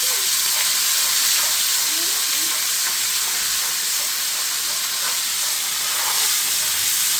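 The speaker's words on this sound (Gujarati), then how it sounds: "હેકાતો જાય મસાલો" Masala spices frying in a pan for prawn biryani, a steady close sizzle and hiss with occasional stirring scrapes, continuous throughout with no talk.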